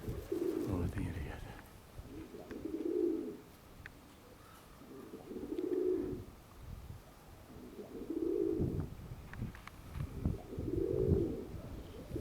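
Homing pigeons coo in a strong December wind, four soft, rounded bursts rising and falling at a steady rhythm about every two and a half seconds, fairly close over a rushing wind background.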